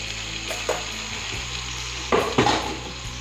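Peas fry in a pan with turmeric, a steady close sizzle with a few sharper spoon stirs and scrapes against the pan, no talking.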